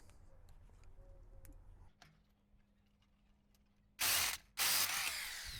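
Ratchet wrench loosening a 3/4-inch bolt on a Nissan Hardbody power steering gearbox, heard as two loud, close bursts of rapid clicking near the end after quieter workshop handling sounds.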